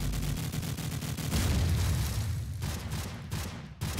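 Gunfire and explosions on the Crash map in Call of Duty, a dense roar of overlapping shots and blasts with quick rhythmic bursts of automatic fire, loud and continuous, fading out near the end.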